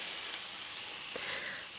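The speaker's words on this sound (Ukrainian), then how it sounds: "Смажу з іншої сторони." Chicken pieces fry in a very hot pan, giving a steady close hiss of sizzling fat that holds evenly throughout with no talking.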